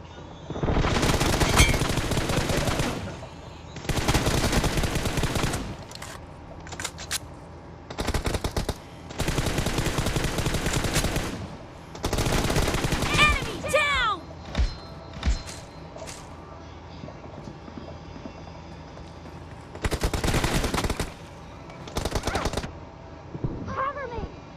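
Repeated bursts of automatic gunfire in the video game PUBG, loud and close, coming in several long volleys separated by short pauses, with footsteps and faint game noises between.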